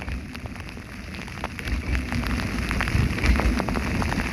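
Heavy rain pours steadily onto the sea around a fishing boat at dusk, a dense close hiss with scattered sharp drop impacts and low rumbling swells, growing slightly louder, no voices.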